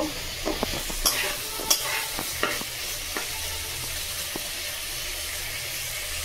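Chicken with masala being stir-fried in a pan, a soft continuous sizzle under a series of spoon scrapes and knocks against the pan, fairly close, with no one talking.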